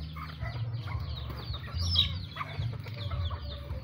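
Chickens cluck and squawk nearby in a busy, uneven chorus over a low rumbling background.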